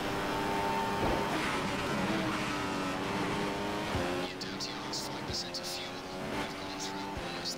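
F1 race car engine from the F1 2015 racing game, a Red Bull-style career car at the Italian Grand Prix, droning steadily with rising and falling harmonic whine as it shifts gears, with faint crackling tire noise and a voice speaking over it.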